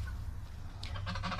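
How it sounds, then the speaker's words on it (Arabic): A domestic turkey, one of two eight-month-old males, calls with a brief honking note over a steady low hum, fairly faint and near. "الرومي ده يا جماعة بسم الله ما شاء الله عندي بقاله 8 شهور، دول دكرين"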